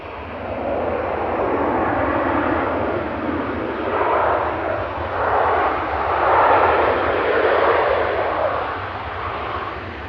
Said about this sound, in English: Ryanair's EIEBV coming in from Dublin there with flight 552